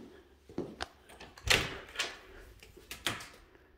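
Doors opening and closing inside a house during a walkthrough, several clunks, thuds and latch clicks spread unevenly, fairly close, with no talking.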